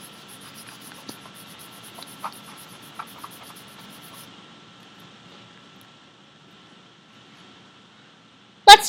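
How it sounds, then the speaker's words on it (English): Students in a classroom erase written place value templates, making soft scattered rubbing and scratching noises at low level, with a sharp knock near the end. "Go ahead and erase your templates."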